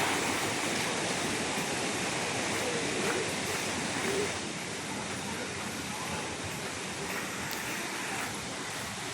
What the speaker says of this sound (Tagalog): Ang ganda pala yung falls dito.